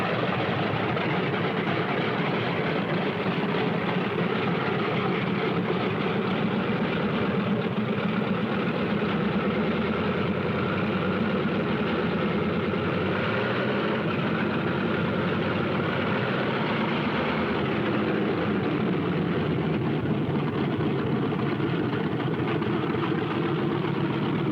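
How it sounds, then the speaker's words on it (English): World War II Thunderbolt fighter plane engines warm up on an airfield, idling with a steady, even drone that holds constant throughout, moderately loud with no voices. "On the field, planes warm up."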